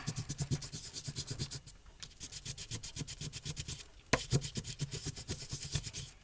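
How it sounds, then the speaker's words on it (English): A crayon held sideways rubbed back and forth over paper laid on a leaf, a fast rhythmic scratchy rasp in quick even strokes, pausing briefly midway, close and clear. "And I'm going to turn the crayon sideways like so. I'm going to rub over it."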